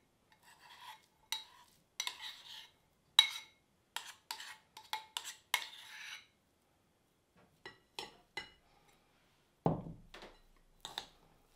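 Crumbled feta, 400 grams, being stirred into a cheese pie filling, giving soft scraping and rasping utensil strokes in short irregular bursts, close and fairly quiet, with one dull thunk near the end.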